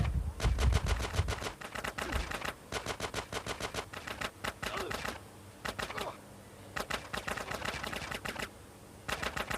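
Rapid automatic gunfire in GTA San Andreas comes in repeated sharp bursts of crackling shots. The bursts are separated by short gaps, with a heavy low thump at the start.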